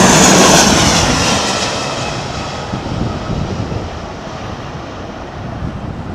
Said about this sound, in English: what is different flying the Neo is the sound of the engines